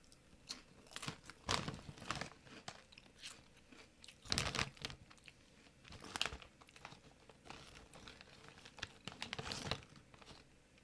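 Sour cream and onion potato chips are crunched up close, irregular crisp bites and chewing with bag crinkling in between, with no talking.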